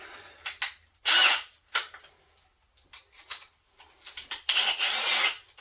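Short bursts of a cordless drill whirring in low speed as it drives a screw into shower trim, stopping and starting, with a longer run at the end; close and fairly loud.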